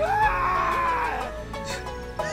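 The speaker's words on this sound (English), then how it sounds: "Powered by the screams of goats." Goats in the video game Goat Simulator 3 let out a loud, drawn-out wavering scream that bends in pitch, then tails off into fainter bleats and clatter.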